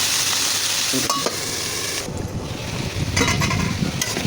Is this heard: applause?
no